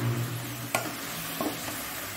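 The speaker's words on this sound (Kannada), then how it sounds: "ಇಲ್ಲಿ ಸ್ವಲ್ಪ ಫ್ರೈ ಹಾಕೊಳ್ಳಿ. ಇಲ್ಲಿ ತಿರುಗಿಸಿಕೊಂಡು" Cucumber sukka fries in a pan in a steady soft sizzle, with two brief scraping clicks as it is stirred, close and alone without talk.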